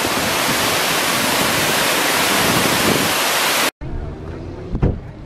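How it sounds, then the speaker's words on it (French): Large waterfall near Grimsel Pass in the Swiss Alps, a loud continuous broadband roar of falling water that stops abruptly, followed by quieter ambient noise with a brief thump. "Retour à la grande cascade."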